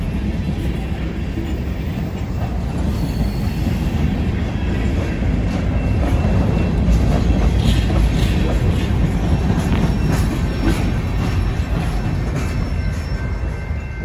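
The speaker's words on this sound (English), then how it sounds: "Northbound BNSF freight." A northbound BNSF freight train of unloaded hopper cars rolls steadily past up close, a loud continuous rumble with rhythmic wheel clatter and faint squeals throughout.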